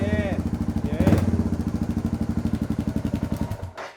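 Suzuki DR650 single-cylinder motorcycle fitted with a Screaming Demon exhaust, idling close by with a deep, steady thumping pulse that cuts out at the end, while someone speaks briefly over it.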